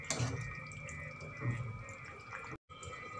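Water is poured into a brinjal and potato curry in a pot: a close splashing pour with a few drips and clinks, then a short pause before quieter liquid sounds resume.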